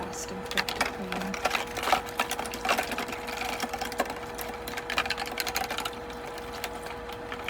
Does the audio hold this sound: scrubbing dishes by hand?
yes